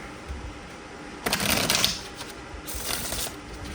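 A brisk riffle of tarot cards being shuffled, a short loud burst followed by a softer second shuffle, close up with no talking.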